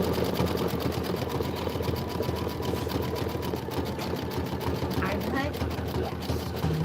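Embroidery machine stitching a design, a rapid steady mechanical chatter of the needle running continuously, with people talking over it.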